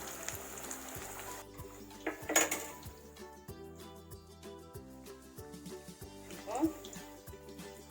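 Banana flower vada frying in oil gives a soft, low sizzle beneath a person talking, with a few metallic clinks of a utensil against the pan standing out.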